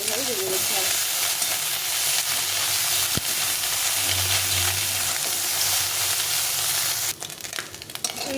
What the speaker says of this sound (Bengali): বাকি মাছগুলো এইভাবে ভেজে নেব। এদিকে একদিকে ভাজা হয়ে গেলে আর উল্টে পাল্টে এইভাবে ভেজে নিতে হবে।